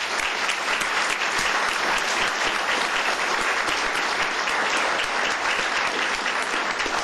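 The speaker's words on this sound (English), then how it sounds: "Let's give them all a big round of applause." Audience applause at a county commissioners court session honoring five-year employees, dense sustained clapping that is loud and even from start to finish, with no pause.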